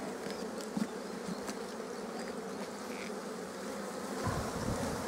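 Honeybees buzz steadily and close by during a hive inspection in a garden, a continuous droning hum with no talk over it.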